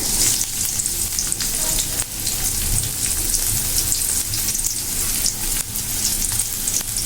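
Garlic and onion hit hot oil in a pan as a tempering for dal, giving a loud, steady, close sizzle with crackling that runs unbroken throughout, no voices.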